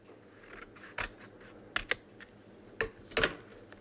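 Scissors snip through paper while a heart shape is cut out for a Valentine's craft project, several sharp, close clicks in an irregular rhythm, quiet between cuts.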